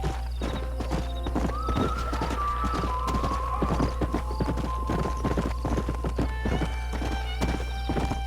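Horse hooves clip-clop in a steady, brisk rhythm in the video game Red Dead Redemption, close and clear, with a whinny and faint game music tones over the hoofbeats.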